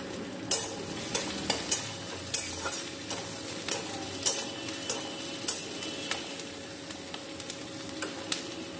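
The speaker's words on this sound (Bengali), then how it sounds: "আর এইদিকে আমি পেঁয়াজটা ভাজছি" Onions frying in a pan beside a pressure cooker on an induction hob, a steady close sizzle broken by regular sharp clicks of a spatula against the pan, with no talking.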